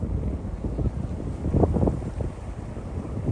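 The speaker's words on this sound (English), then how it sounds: "You can tell it's windy, which makes it a little cool." Wind blows outdoors at the Fort Worth Nature Center, a low, rumbling buffet against the microphone that swells into a stronger gust midway and then eases back without fading completely.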